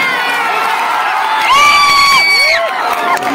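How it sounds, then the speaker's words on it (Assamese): An audience at a Bhaona performance cheers and whoops for the organising committee. The crowd noise is loud and close, with shrill sustained shouts and some clapping. "সমূহ দৰ্শকক শ্ৰদ্ধাৰে অনুৰোধ জনাইছোঁ, কমিটিখনৰ কাৰণে এটা হাত চাপৰি বজাই যায়"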